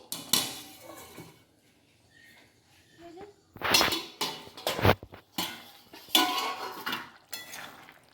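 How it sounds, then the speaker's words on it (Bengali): A metal lid clanks and rattles onto a pot of drumstick and potato curry, with several loud clatters and scrapes clustered together after a quieter stretch of light kitchen noise. "এবার আমি সেদ্ধ হওয়ার জন্য একটু চাপা দিয়ে দিচ্ছি"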